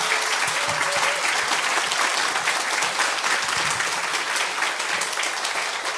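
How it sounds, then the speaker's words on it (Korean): Steady, dense applause from a church audience welcoming a missionary pastor serving in Turkey, loud and sustained throughout with no voices over it. "앞으로 터키에서 계속 수고하시라고 우리 힘찬 박수로 맞이하겠습니다"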